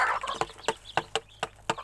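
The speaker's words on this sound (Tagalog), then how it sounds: "Oh, chicken, it's time to eat na." Hungry chickens cluck at feeding time, a close series of short, sharp clucks and squawks repeating every fraction of a second, with no speech.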